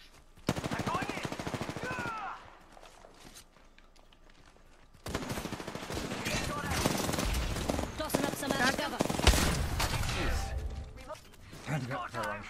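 Gunfire in the shooter Apex Legends, with bursts of automatic fire and impacts that start loud and near, drop away briefly, then return as dense sustained shooting mixed with game noise and a player talking over it.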